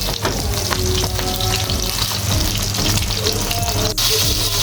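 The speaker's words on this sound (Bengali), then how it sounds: "মাছটা হতে থাক, ভাজা হতে থাক।" A whole hilsa fish fries loudly in a pan, a dense, continuous crackling sizzle close up that stays steady throughout.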